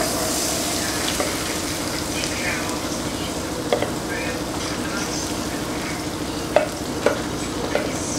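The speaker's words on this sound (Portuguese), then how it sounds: "Vou dar uma refogada aqui na cebola." Onion sautés in a hot pan with a constant sizzle, while a spoon stirs and scrapes and knocks against the pan in a few sharper taps near the end.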